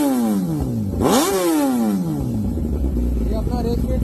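A Kawasaki ZX-10R in neutral with a Race Speed full exhaust system revs sharply, climbing and falling in pitch, then settles to a loud, rumbling idle close to the microphone.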